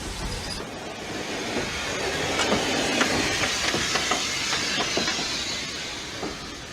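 A 140-ton British steam locomotive running, a steady loud rumble and hiss with rhythmic metallic clicks of wheels over rail joints building through the middle.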